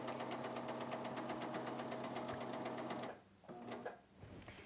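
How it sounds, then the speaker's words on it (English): Bernina L450 sewing machine stitching right up to a fabric edge, a quiet, steady rapid needle chatter that runs evenly, then stops abruptly, followed by a few soft handling sounds. "when you actually stitch, you're going to stitch right to the edge, and just barely 1 stitch off"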